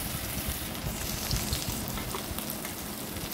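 Potato pieces dropped into hot oil with five-spice seeds and slit green chillies, a dense close crackling sizzle that stays loud and even for a few seconds.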